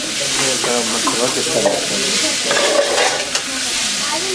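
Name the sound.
mixing chaat ingredients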